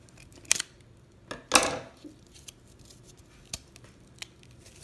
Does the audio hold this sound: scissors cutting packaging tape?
yes